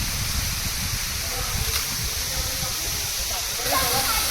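A constant roaring rush of falling water fills the scene at Tulshi waterfall in Mandangad, a steady waterfall with voices of people bathing beneath it faintly audible over it.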